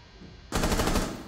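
Automatic gunfire in Rainbow Six Siege erupts after half a second of quiet, a loud, rapid burst of shots continuing to the end.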